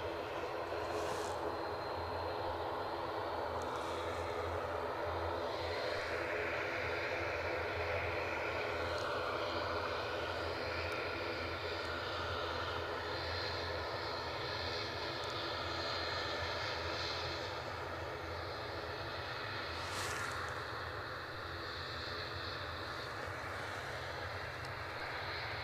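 A jet airliner landing at Edinburgh Airport, a steady loud engine roar with rushing air holding throughout, alone without talk.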